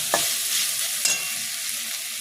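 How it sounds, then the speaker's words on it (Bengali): Spice paste with chopped tomato frying and being stirred in a pan for a vegetarian banana-flower dish, a steady close sizzle with two sharp stirring scrapes, no voices. "তারপরে দেবো আমি টমেটো কুচি। মশলাটা একটু কষা হোক।"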